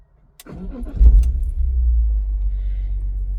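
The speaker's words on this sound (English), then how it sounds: "if I turn the engine on" A BMW E46 M3 engine cranks and catches about half a second in, then settles into a steady, deep, close idle rumble that runs to the end.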